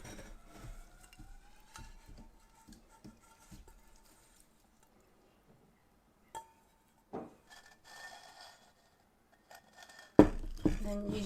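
A homemade herbal infusion is strained through cheesecloth and a strainer into a small spouted pot, with light clinks and scrapes of kitchenware, quiet gaps, and a louder rush of liquid near the end.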